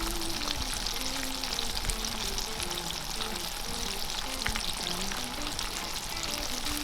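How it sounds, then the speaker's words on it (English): Fish coated in pancake batter sizzles and crackles steadily in hot oil, a dense, continuous frying hiss with a low bubbling undertone and no voices. "when you're frying the fish in this recipe, it's very, very important to get the temperature of your oil proper"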